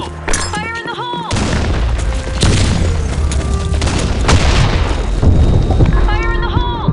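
A grenade goes off in the online shooter BlackShot, a deep booming blast with gunfire and clattering action mixed in; a game voice calls out briefly at the start and end.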